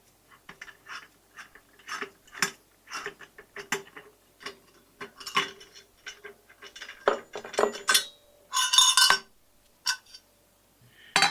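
A small wrench with a 17 mm socket turns on a burger patty press tray. It makes a run of close ratcheting clicks and metallic rattles, irregular and spaced out, ending in a brief burst of handling noise.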